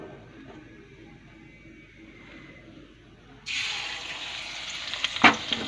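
Fritters made from hinche greens hit hot oil after a quiet start, and a bright, steady sizzle follows with a few sharp crackles and pops.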